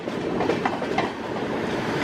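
Passenger train hauled by an Erode WAP7 electric locomotive, Mangalore Chennai Superfast Express, rolling past nearby near Chennai, with a loud steady rumble and rhythmic wheel clatter over rail joints throughout.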